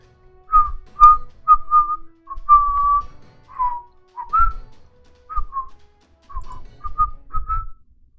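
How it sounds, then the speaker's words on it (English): A person whistles a short melody alone, nearby and fairly loud, in brief phrases separated by small pauses, with faint handling thumps underneath. "I'm not great at whistling, but I can do it"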